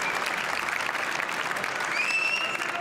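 A crowd at a squash match, the Canary Wharf Classic final, applauds in a steady, even wash of clapping, with a whistle briefly cutting through near the end.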